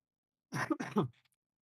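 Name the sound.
cough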